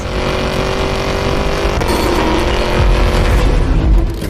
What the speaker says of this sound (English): the Escalade V's engine sounds like it comes from hell